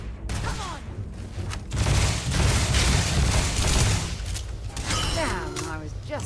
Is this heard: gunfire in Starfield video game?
yes